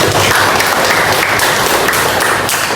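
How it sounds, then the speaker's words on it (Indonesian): An eighth-grade class applauds at school, a brief burst of loud, dense clapping that stays steady throughout. "Tepuk tangan yang sebesar-besarnya."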